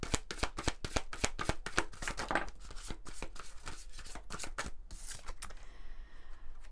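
Lumière de Fée oracle cards being shuffled by hand in a rapid, steady run of crisp riffling flicks. The flicks stay close and fairly loud and thin out toward the end, with no talking.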